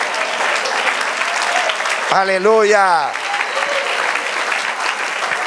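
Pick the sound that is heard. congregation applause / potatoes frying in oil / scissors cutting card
congregation applause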